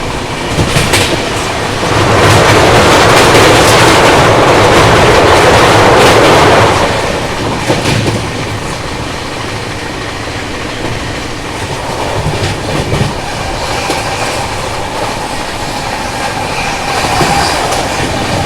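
A Goa Rajdhani Express (22413) runs through Shri Mahaveer Ji railway station without stopping, heard from on board. A loud, steady rumble and clatter of wheels on rails swells early, then settles into a continuous rolling roar.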